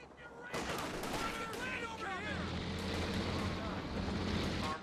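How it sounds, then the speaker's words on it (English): In a Company of Heroes 2 battle, a German tank's high velocity 75mm gun fires, starting with a sharp blast. Rumbling combat noise and bursts of gunfire follow, with a commentator's voice running beneath. "penetrating hit there from its high velocity 75mm gun"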